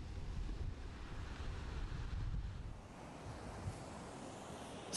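Sea waves wash onto a beach below collapsing cliffs, a steady low rumbling surf mixed with wind buffeting the microphone, fairly faint and continuous.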